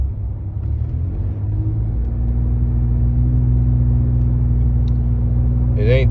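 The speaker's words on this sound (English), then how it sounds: "this is what the exhaust sounds like on the inside of the truck" A Ford F-150 EcoBoost truck with an SPD downpipe exhaust, heard from inside the cab: a steady, loud, deep droning rumble that holds throughout, with a slight rise in pitch.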